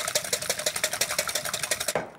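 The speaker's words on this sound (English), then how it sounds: "Whisk that up." Eggs are whisked briskly in a bowl for a whitebait omelette, a fast, steady rhythm of close clinking strokes, about ten per second, stopping abruptly at the end.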